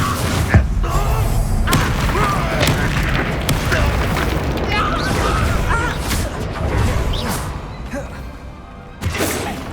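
Bombarda and Confringo spells explode in the Hogwarts Legacy video game, a loud, dense run of booming blasts and crashing impacts with sharp hits near the start and end, mixed with combat noise and brief talk.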